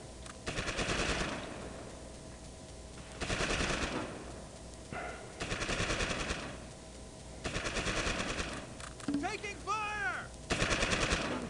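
Bursts of machine-gun fire crackle in the Normandy hedgerows of the strategy game Close Combat: Invasion Normandy, about five rapid volleys separated by short lulls, with a brief whistling effect near the end.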